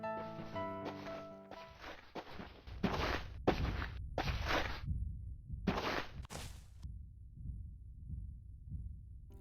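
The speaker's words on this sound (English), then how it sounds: "Loud, heavy footsteps behind me trigger my flight or fight response." Heavy dinosaur footsteps in the survival game The Isle, a series of deep, loud thuds landing one after another at an uneven pace, some close and booming, others fading, with no talk over them.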